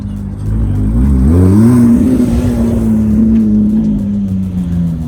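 A car speeds past at a Las Vegas rally, its engine a loud, steady roar whose pitch rises as it accelerates and then holds high as it passes close by, with no talk.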